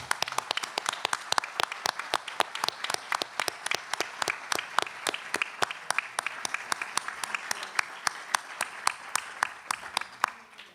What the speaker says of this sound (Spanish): Y como es el cumpleaños, les pido un aplauso.